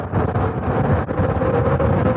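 Strong wind roars steadily across the microphone while riding a Bogist C1 Pro electric scooter at speed, a loud continuous buffeting rumble with no talk.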